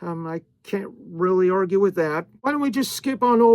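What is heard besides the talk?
No distinct noise like a dog, phone or traffic.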